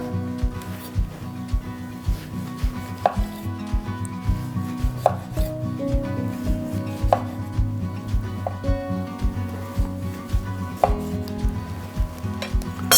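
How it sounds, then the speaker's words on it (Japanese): A knife slices an orange into rounds on a cutting board for a Sicilian orange salad, giving steady close thuds of the blade meeting the board with a few sharper clicks, and no talk. "まずはオレンジ、もう簡単に輪切りにスライスしていきましょう。"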